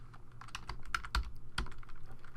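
Typing on a computer keyboard while entering text for a logo in Photoshop, a quick run of sharp key clicks close up, irregular in rhythm, no voices.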